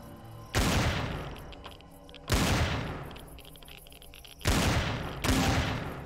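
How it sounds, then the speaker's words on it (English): A hand cannon in the space game Empyrion fires four heavy, booming shots in an irregular sequence, each a sharp loud blast that decays slowly into the next. "Time to test the hand cannon."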